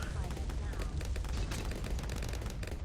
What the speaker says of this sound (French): Une mini explosion nucléaire.